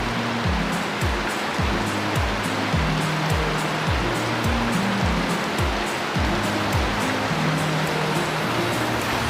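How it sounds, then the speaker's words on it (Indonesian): Heavy rain pours down outdoors in a dense, constant roar of hiss and splatter, loud and unbroken throughout, with a repeating low tonal pattern running underneath. "mana hujannya terus banget lagi"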